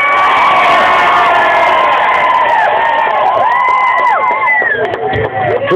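A large crowd at an outdoor labor rally in Military Park, Newark, New Jersey cheers and screams loudly and continuously, with whoops and shouts rising over a dense roar of voices.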